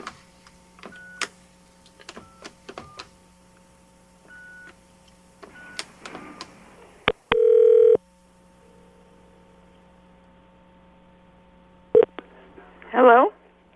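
A telephone call is placed: sparse keypad tones and clicks, a steady dial-type tone, then a brief warbling ring near the end, all close and clear.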